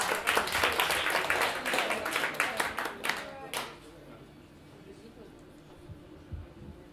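A concert audience gives brisk applause for a saxophone quartet, a dense patter of many hands that fades out after a few seconds into quiet room sound with faint voices.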